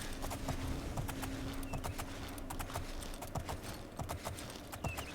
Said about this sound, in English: we can obviously gallop there instead of running